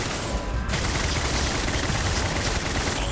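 Automated turrets in Starfield fire nonstop, a dense, loud, machine-gun-like rattle that fills the whole moment with no voices over it.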